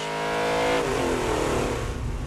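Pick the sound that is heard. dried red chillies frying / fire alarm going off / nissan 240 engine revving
nissan 240 engine revving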